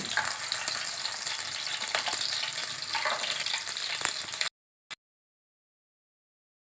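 Vegetables fry lightly in an open pan with a steady close sizzle and occasional stirring for about four and a half seconds, then cut to near silence with a couple of faint clicks.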